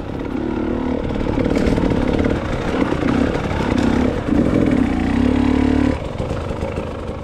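A brand new TE 300 dirt bike riding on hilly trails, its two-stroke engine buzzing loud and close with rising and falling revs, then dropping away near the end.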